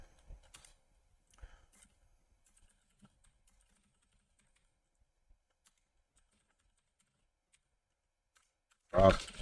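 Faint, sparse computer keyboard keystrokes cluster near the start of a coding session, then long near-silence broken by occasional isolated clicks, ending in a brief louder burst of noise.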